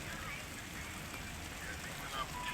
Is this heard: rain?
yes